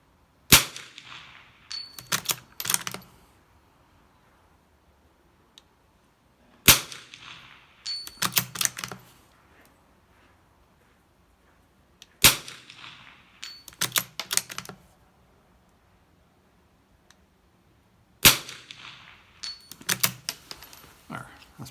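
Custom-stocked Brno rifle firing at a range, with four sharp loud shots spaced about six seconds apart, each followed within a second or two by quick clusters of metallic clanks and rattles from steel targets, with quiet gaps between.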